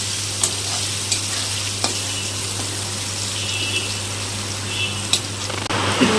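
Teasel gourd (kakrol) frying with salt and turmeric, producing a continuous close sizzle with occasional spatula taps and stirring clicks over a low steady hum.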